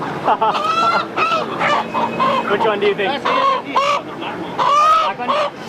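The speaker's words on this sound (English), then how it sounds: "They're giving me the honor of choosing the chicken, so I have the pressure." A crowd of live chickens at a Lahore street food stall clucks and squawks loudly and without pause, their calls overlapping close by while a voice speaks briefly in the middle.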